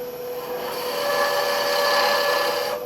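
Wood lathe turning a long-stemmed wooden goblet, a steady close scraping and cutting hiss with a faint whine, continuous and fairly even in loudness with no talk.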